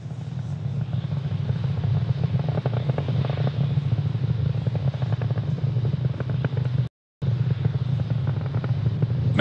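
Roar of a SpaceX Falcon 9 rocket climbing toward max Q on the Transporter-2 mission, a dense, continuous broadband rumble that stays loud and steady with one brief dropout.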